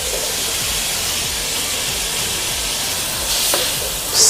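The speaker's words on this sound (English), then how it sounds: "we're gonna add in our yellow onions" Yellow onions sizzle in a hot pan with garlic powder and liquid aminos for vegan egg fried rice, a steady close hiss and crackle with faint stirring bumps and a slightly louder burst near the end.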